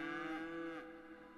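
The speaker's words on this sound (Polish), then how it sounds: "Krowy" Cows mooing in the city-building game Cities Skylines, two long overlapping lowing calls close up that fade out toward the end, with no talk.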